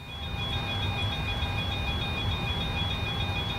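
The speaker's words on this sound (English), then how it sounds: "That beeping isn't me, by the way, that's outside." Repeating electronic beeps from outside, regular high pulsed tones over a low steady hum, faint and with no talking.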